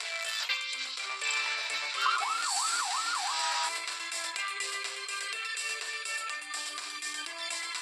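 A police car siren from a children's car-repair video game, a loud warbling wail sweeping up and down over a steady bed of bright electronic game music, continuous throughout.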